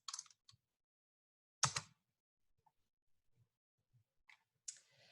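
Short bursts of clicking keys on a computer keyboard while a web address is typed, quiet and close, with a few isolated taps spread across otherwise silent gaps.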